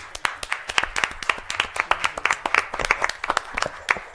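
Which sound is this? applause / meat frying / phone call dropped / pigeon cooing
applause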